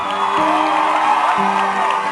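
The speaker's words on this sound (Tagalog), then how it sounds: "Sigawan ng mga pustador na pumusta naman sa panuksukan" Bettors in a cockfight arena shout together in a dense, sustained roar of overlapping voices, loud and steady for a couple of seconds.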